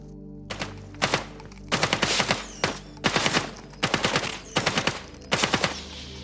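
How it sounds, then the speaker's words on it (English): Bursts of gunfire from a third-person alien shooter game, Qanga, as the player fires on small aliens: six or seven rapid volleys of automatic shots spaced about a second apart, loud and close, with no talk. "Shooting works really well in third person as well."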